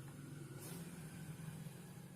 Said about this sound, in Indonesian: mobil jeep polisi